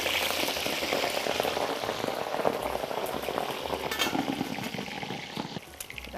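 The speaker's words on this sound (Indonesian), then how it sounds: "untuk membuat ceker itu mekar, kita harus goreng dulu cekernya" Chicken feet deep-frying in hot oil, a loud, steady crackling sizzle with dense popping bubbles that continues throughout, close and alone with no voices.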